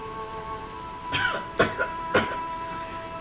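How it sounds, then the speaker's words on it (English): A few harsh coughs, three or four bursts close together, over a faint steady hum. "His coughing is the closest that he can come to laughter"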